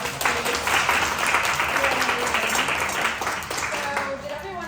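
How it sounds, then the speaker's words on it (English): An audience applauds Stacey at a raffle gathering, a full, steady round of clapping from many people, fairly close, with voices mixed in beneath it. "Everyone give Stacey a round of applause, please."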